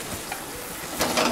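Melted jaggery syrup is stirred in a pan, giving a soft bubbling sizzle with scraping strokes that grow louder toward the end.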